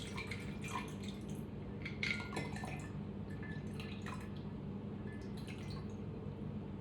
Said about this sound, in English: Pour the drink.